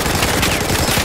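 Sustained automatic gunfire from the Battlefield 4 video game on the Operation Whiteout map, a dense, loud, continuous rattle of rapid shots filling the whole moment with no talk over it.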